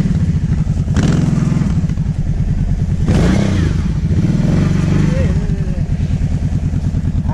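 Kawasaki KVF 750 Brute Force ATV stuck in snow, its engine idling with a loud pulsing thrum and surging into a couple of revving bursts as it tries to regain grip, while people talk over it.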